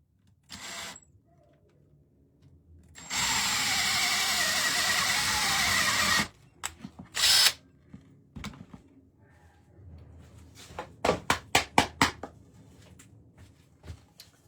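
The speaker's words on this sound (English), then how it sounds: "drill your 2 holes all the way through." A power drill whirs in a short burst, then runs steadily for about three seconds drilling through wood, followed by clicks, knocks and a quick series of taps.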